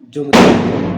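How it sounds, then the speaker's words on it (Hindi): A firecracker bursts with a sharp, loud bang in the background, then rumbles and decays, while someone speaks Hindi in the foreground. "पीछे से पटाखों की आवाज़ आ रही है"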